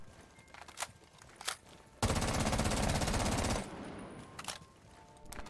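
A gun in Rainbow Six Siege emptying a full magazine in one sustained rapid-fire burst of about a second and a half, loud and alone, with a few faint single sounds before and after.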